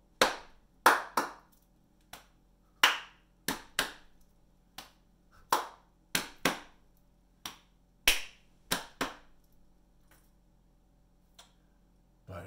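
A person body-percussions a rhythm ostinato, producing crisp, close claps, slaps and snaps in a steady repeating pattern of sharp hits with short gaps between phrases.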